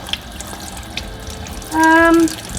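A bathroom sink tap runs briefly, a short half-second gush of water following quiet room sounds, with no talking.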